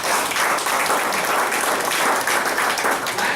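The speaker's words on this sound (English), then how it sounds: "give yourself a round of applause" Team members applauding at a Louie Herron Toyota president's award dinner and kick-off meeting, a dense, steady wash of clapping from a roomful of people that holds loud and even throughout.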